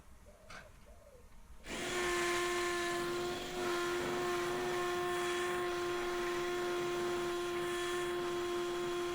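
A power drill runs steadily through a timber frame for a lean-to, its whining motor loud and continuous after a brief quiet start, with a slight dip midway as the bit bores through the wood.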